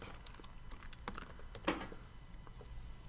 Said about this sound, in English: double click in my text box, and type in my words or my text